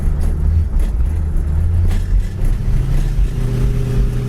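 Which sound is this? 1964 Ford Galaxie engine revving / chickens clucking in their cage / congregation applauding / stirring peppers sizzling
1964 Ford Galaxie engine revving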